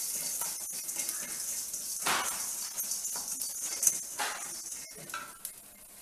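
Cumin seeds sizzle in hot oil alongside urad dal, pepper and fenugreek in a pan for a Tamil neem flower kuzhambu, with a steady crackle and intermittent scraping stirs close by.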